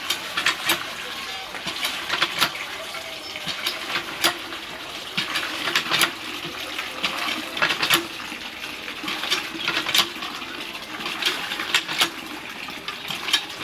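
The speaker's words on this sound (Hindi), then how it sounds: "पानी भरे छी" Water is poured into a container with a gushing, splashy fill and scattered sharp clatters, while voices talk over it.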